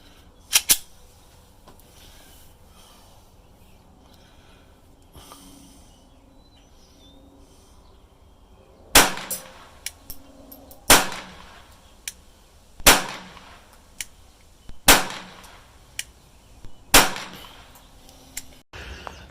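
A Taurus TX22 .22lr pistol fitted with a Tandemkross compensator fires about six sharp, loud shots at a slow, steady pace. Two quick shots come first, followed by a long quiet pause before the rest.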